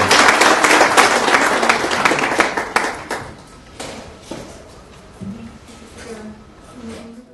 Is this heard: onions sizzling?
no